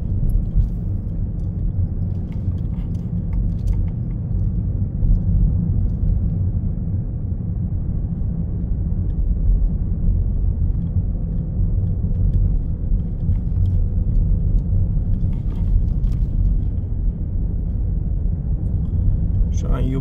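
A Toyota Corolla 1.8 Hybrid climbing a hill on a city route produces a steady, low cabin rumble of engine and road noise that holds constant throughout, heard from inside the car.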